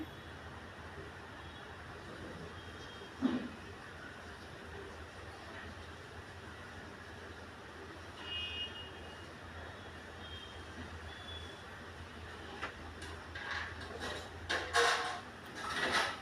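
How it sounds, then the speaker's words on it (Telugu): A sewing machine stitches together pieces of a uniform trouser in a steady, continuous mechanical hum with faint clicks and a few brief louder knocks near the end, no talking. "పీస్ పోకుండా అలా హోల్డ్ చేసి స్టిచ్చింగ్ చేసుకుంటే బాగుంటుంది"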